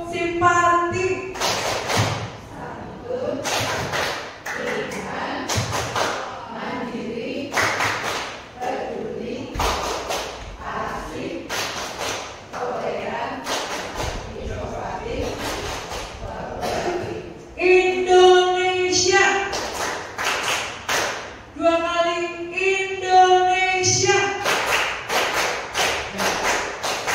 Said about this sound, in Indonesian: tepuk simpati ya